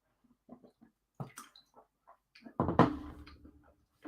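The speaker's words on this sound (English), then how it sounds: "so I'm going to drink" A person drinking water: quiet sips, small liquid gulps and swallowing sounds close up, followed by a louder slurping pull, with brief pauses between.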